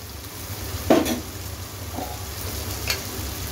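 Ginger garlic paste stirred into mushroom curry in a pan: a soft spoon scrape and a few light clicks against the pan over a faint, low background hum.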